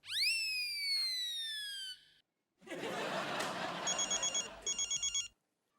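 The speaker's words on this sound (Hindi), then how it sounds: "हमारा फोन बज रहा हो" A telephone rings with a sweeping electronic tone, then after a pause an old-style bell rings in quick repeated bursts, fairly loud and close.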